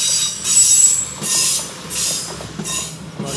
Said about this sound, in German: Schon wieder eine Bahn.